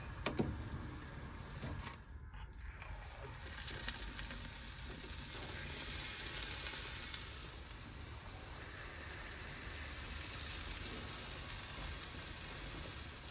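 Medu vada, the savory urad-dal fritters, deep-fry in hot oil shaped with a vada maker, giving a steady, soft crackling sizzle throughout with no voices.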